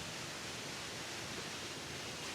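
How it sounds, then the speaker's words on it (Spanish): A powerful waterfall about 20 metres high, with water falling hard in a dense, steady roar that has no breaks and no voices. "Seguramente estás escuchando, de hecho, la caída del agua muy fuerte porque cae muy poderosa"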